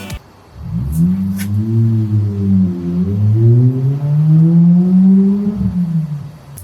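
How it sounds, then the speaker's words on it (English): Nearby Lexus IS200 engine revving up and down in several rising and falling sweeps, a throaty droning tone, with a couple of sharp clicks at the start. "That noise you hear is an IS200."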